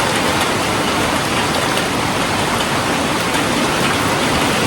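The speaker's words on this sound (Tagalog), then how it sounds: "Lumakas ang ulan." Heavy rain pours down in a dense, unbroken roar, loud and steady from start to finish, with no voices.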